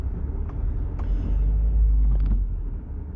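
A car drives past on a quiet road, its low engine rumble swelling to a peak midway and fading away, close and fairly loud with no talking.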